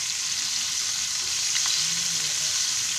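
Bombay duck fish coated in batter fries in a pan over low gas, a steady close sizzle with faint stirring scrapes throughout.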